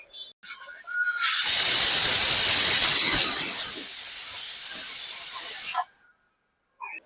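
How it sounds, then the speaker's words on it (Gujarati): A pressure cooker boiling rajma beans lets out a loud, sustained steam whistle. It starts with a brief hiss, swells into a strong shriek that holds for about four seconds, then stops abruptly. "હવે આપણે આ 2 સીટી થઈ જવા દઈશું"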